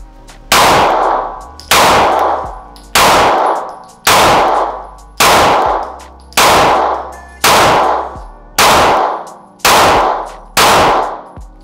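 Nine evenly spaced, loud pistol shots ring out from a Glock 43X, each sharp crack followed by a decaying metallic ring before the next.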